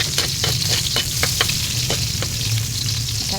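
Onions frying in a little oil in a hot pan, giving a steady, loud, close sizzle with scattered crackles and pops throughout, no voices.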